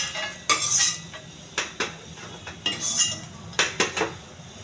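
A metal spoon stirs and scrapes dried red chillies frying in a little ghee in a pan, making sharp clinks and scrapes in uneven bursts over a faint sizzle, with no talk.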